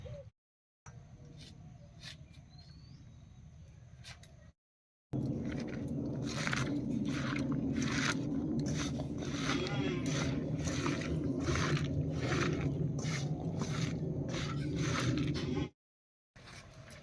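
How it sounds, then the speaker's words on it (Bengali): Vegetables mixed by hand with cumin and garlic pastes, turmeric, salt and mustard oil: close, wet squishing and rubbing in a steady rhythm, broken by brief silent gaps. "এবার সর্ষের তেল দিয়ে মাখিয়ে নেব।"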